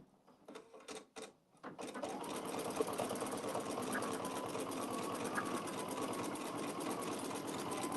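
A serger embroidery machine stitches out a pillow design: a few short start-and-stop bursts, then a steady, fast, loud mechanical whirring and clatter that runs continuously to the end.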